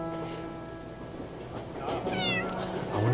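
A cat meows in the video game 11-11: Memories Retold, a clear rising-and-falling call in the second half against a steady tonal game background with no talk.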